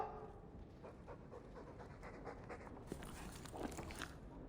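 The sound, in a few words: Mabari war dog panting, from video game Dragon Age 2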